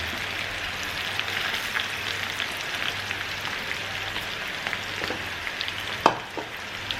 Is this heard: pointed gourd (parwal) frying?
yes